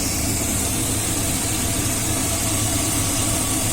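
A 2000 Chevrolet Silverado 2500 with a 6.0 engine idles steadily after a coolant crossover leak repair, a loud, close, continuous low rumble with no talk over it.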